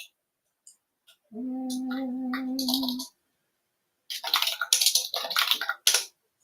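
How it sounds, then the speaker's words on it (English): A computer keyboard is typed on during a livestream, heard as a quick cluster of close, sharp clicks after a steady tonal hum stops. "Pardon my typing."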